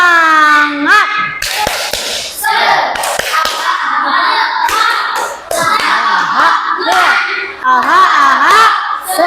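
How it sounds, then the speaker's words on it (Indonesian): Children in a classroom do a rhythmic spirit clap, bursts of loud hand claps and thumps in patterned beats mixed with shouted chanting, with a teacher's voice leading between the claps. "Sekarang kita tepuk semangat."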